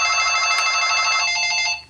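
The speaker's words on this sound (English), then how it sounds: "Phone call." A telephone rings with a bright, steady electronic trill lasting nearly two seconds, loud and close, then cuts off at the end, with no voices over it.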